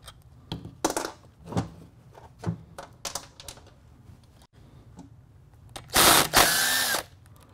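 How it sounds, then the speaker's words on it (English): A wrench works the clutch cover bolts loose on a Hayabusa motorcycle: scattered sharp clicks and taps for several seconds, then a loud, dense burst of whirring mechanical noise near the end. "We're going to use the wrench right here, pull them out."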